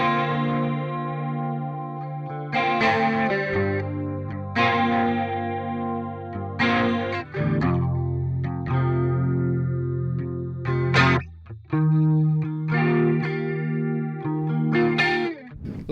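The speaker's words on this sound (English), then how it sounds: "this is what the riff should sound like with the pedals and the amplifier turned on" Electric guitar riff played through a HeadRush Revalver 5 rig with pedals and amplifier on, chorus and distortion colouring sustained chords and bright stabs in a steady loud groove, no voices.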